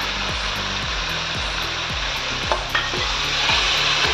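Green chillies frying in spiced masala oil for an egg biryani, a steady loud sizzle with regular stirring knocks of a spoon against the pan, no talking.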